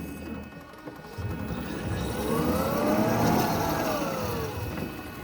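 Drive motor of a Raymond reach truck running as the truck drives forward at very slow speed, with a steady low whine that rises and falls in a gentle arc over mechanical rumble and faint background noise.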